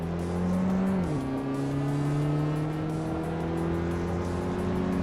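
A 2009 Ford Focus RS engine drones steadily in a racing video game. The sustained rally-car tone holds a constant pitch and dips once briefly, as if shifting gear, and the car runs loud and continuous throughout.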